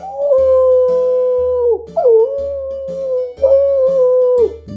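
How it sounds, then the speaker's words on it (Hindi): A fox howling at night: three long, loud, wavering howls that each hold steady and then dip, separated by brief gaps, alone and close. "ये कैसी आवाज है? अरे लोमड़ी होंगे।"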